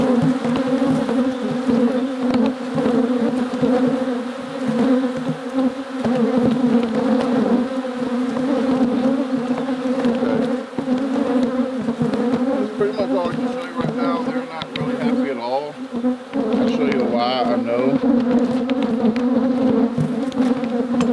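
Dense, steady buzzing of many honeybees swarming close around an open hive, loud and continuous throughout with a few individual bees whining nearer at moments.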